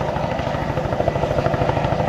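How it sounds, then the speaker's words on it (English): A military helicopter flies during the NAS Oceana air show in 2000, its rotor chop loud, steady and rhythmic throughout, with no voices over it. "They're heading back for that helicopter right now."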